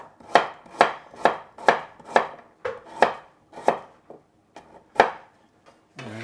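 A knife slicing carrot into thin pieces on a cutting board, about a dozen crisp, evenly spaced chops close up, slowing and spacing out toward the end.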